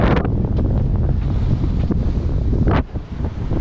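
Strong wind buffets the microphone on a sailing boat at sea while waves surge and splash against the hull, loud and close, easing briefly near the end.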